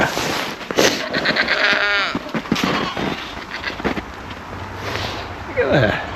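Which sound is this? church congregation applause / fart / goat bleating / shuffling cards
goat bleating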